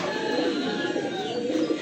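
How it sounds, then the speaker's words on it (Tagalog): Racing pigeons coo in a low, layered murmur, close and continuous, with the restless flock's soft calls overlapping for a brief moment. "Gulo ng mga ibon."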